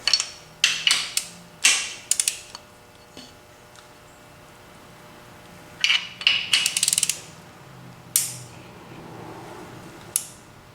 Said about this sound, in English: we're going to get our angle torque wrench out, although it's just a ratchet